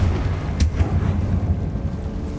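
Confringo fire spell from Hogwarts Legacy gameplay: a sharp blast near the start over a continuous low, rumbling bed of game noise, with no voices.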